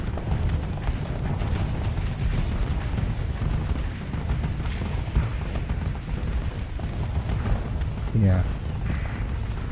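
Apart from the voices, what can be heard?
missiles firing and exploding in the video game Starsector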